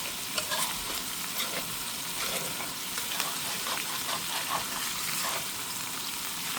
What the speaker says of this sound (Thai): ก็รอให้ไข่สุกแป๊บนึงนะคะ เราก็จะกลับไข่